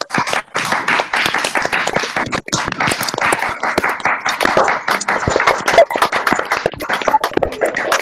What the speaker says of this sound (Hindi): जोरदार तालियों के साथ इनका अभिनंदन करें।